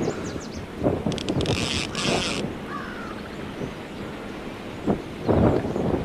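Strong wind buffets and rushes beside a trout river, with gusty roaring noise close to the microphone and occasional crow caws in the background.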